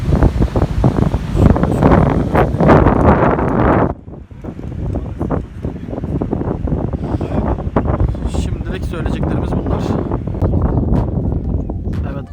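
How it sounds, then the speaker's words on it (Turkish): Heavy wind buffets the microphone in continuous loud rumbling gusts, with a brief dip partway through before the roar resumes. "Fakat mikrofona da yansıyordur belki. Burası rüzgarlı. Bayağı rüzgarlı."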